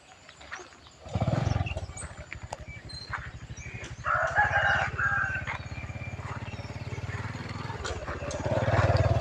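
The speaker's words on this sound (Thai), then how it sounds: "ได้ยินเสียงไก่กุ๊กอยู่" Chickens in the grounds of a rural Thai temple on a morning after rain, giving loud, drawn-out crowing calls over a steady low pulsing rumble, close by and continuous.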